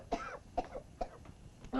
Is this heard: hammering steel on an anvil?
no